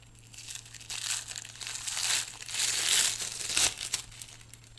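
Tape peeled away from a hair weft in a series of crinkly, crackling bursts, fairly close and moderately loud, rising and falling in waves with a low steady hum underneath.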